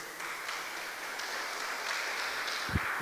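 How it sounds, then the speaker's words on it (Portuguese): A church congregation applauds after a prayer, with steady, moderately distant clapping and a faint hum throughout and one low thump near the end. "Vocês podem aplaudir o Senhor."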